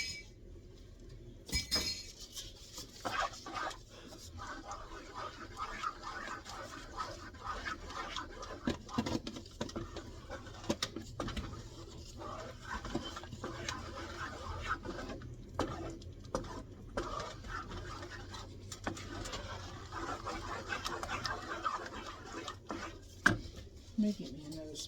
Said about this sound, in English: Now we're going to stir this up.